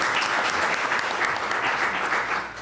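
Applause from a chamber of commerce audience for a moderator and panelists: a short, dense burst of many hands clapping, steady and fairly close, easing off slightly at the end with no voices.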